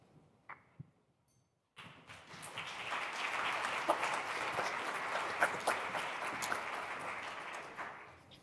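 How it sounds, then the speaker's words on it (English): A conference audience breaks into applause after a brief quiet with a few thumps, the clapping swelling to a steady, full round before tapering off. "It's getting to the end of the conference when people are just needing to be woken up to clap for the sessions"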